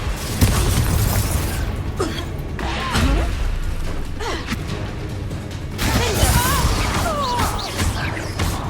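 Confringo fire spells exploding during combat in the Hogwarts Legacy video game, with repeated booming blasts and bursts over a dense, rumbling battle mix, punctuated by gasps and grunts, loud throughout.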